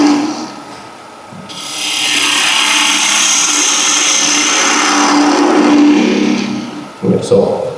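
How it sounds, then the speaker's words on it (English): Spindle gouge cutting the end grain of a wooden workpiece spinning on a lathe, a steady loud broadband shaving hiss with the motor's hum beneath, swelling after a quieter start and cutting off briefly near the end. "the end grain here, I like to do it with spindle gouge, use a bit more control"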